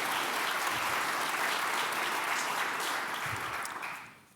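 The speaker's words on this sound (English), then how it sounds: "Let's give them a round of applause just for being there" An audience applauds the panelists at a quantum computing and data center discussion, a full steady round of clapping that fades away over the last second.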